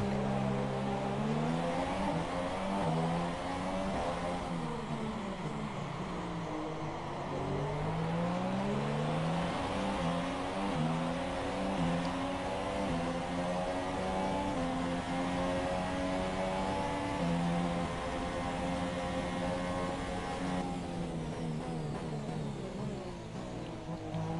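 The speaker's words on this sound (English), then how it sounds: "We're gonna be racing out of pit road." A race car accelerates out of pit road, its engine note climbing and shifting through gears in a continuous loud drone heard from inside, with radio talk faintly over it.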